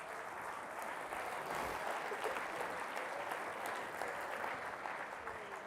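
Steady audience applause at a hypnosis stage show fills the whole stretch, a dense, even patter of many hands clapping at moderate distance with no talk over it.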